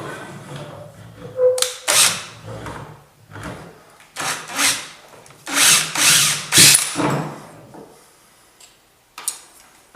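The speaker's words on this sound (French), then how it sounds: "Hop, j'ai pu percer au travers." Power drill bores through oak for a camera and laser-level tripod in bursts of whining drilling, several short runs separated by pauses, near and fairly loud with quiet gaps between.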